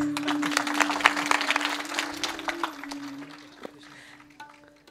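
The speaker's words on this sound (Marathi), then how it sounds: "पोरून टाळी वाजवते जोरात." Loud hand clapping during a humorous religious kirtan performance, a quick burst of sharp claps near the start that thins out and fades over several seconds amid a sustained tonal hum and some background voices.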